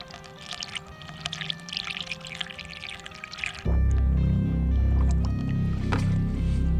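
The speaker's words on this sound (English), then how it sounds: "Now it's time to fill everything up." Coolant pours into a radiator, first a light trickling and splashing, then a sudden switch to a heavier, louder gurgling flow that continues close by.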